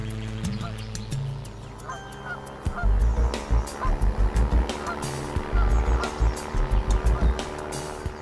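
A flock of migrating geese honks in repeated bursts, loud and close, the calls overlapping in a busy rhythmic chorus over a low rumbling background.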